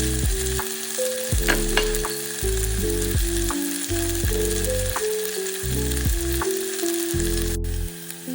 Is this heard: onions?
yes